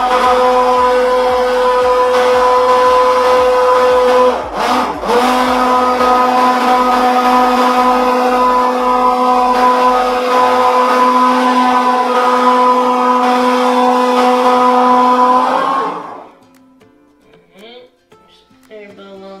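A blender motor runs steadily at high pitch with a loud, constant whir while mixing goat milk soap, then shuts off and winds down, leaving near silence.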